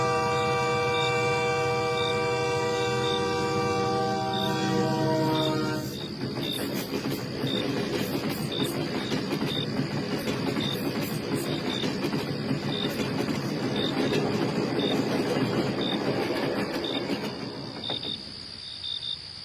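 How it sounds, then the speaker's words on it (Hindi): Night at a railway station in Jalgaon: a steady chirping cricket pulses throughout while a distant train horn sounds for several seconds, followed by the long rushing rumble of an approaching train that fades near the end. "तभी दूर से एक हॉर्न सुनाई देता है। लगता है आज रात का आखिरी ट्रेन आ रहा है।"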